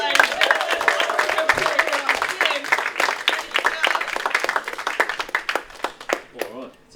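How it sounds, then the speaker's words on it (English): A comedy club crowd claps and applauds as the next comedian comes up, with brisk hand claps and a host's voice talking over it before the clapping thins out near the end. "give him a round of applause to get up here, ladies and gentlemen."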